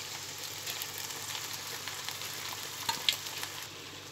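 Purslane greens tipped into fried onions in a pan and stirred, giving a soft, even sizzle with a couple of faint scraping clinks near the end; no voices.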